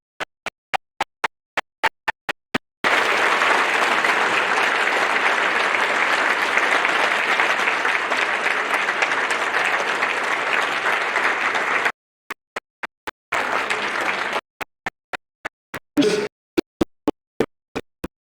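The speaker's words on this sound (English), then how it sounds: "a round of applause" Applause at a Christmas party: a few scattered claps build into a full, loud round of clapping from a small group lasting about nine seconds, then breaks into sparse, separate claps with a short second burst.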